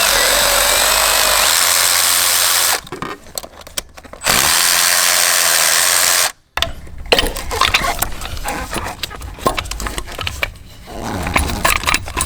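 A power ratchet removing the coil pack bolts on a Chevrolet Silverado or GMC Sierra 2.7L turbo four-cylinder, loud whirring runs close up, broken by pauses and followed by clanking and rustling handling.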